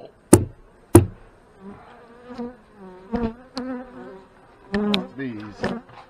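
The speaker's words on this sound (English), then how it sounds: "Bees." Honey bees buzz from an opened hive during an inspection, a wavering multi-toned drone with several sharp close fly-bys passing the listener.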